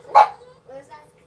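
One sharp dog bark sounds close and loud, followed by softer yips or whimpers, in a home where someone has come to the door.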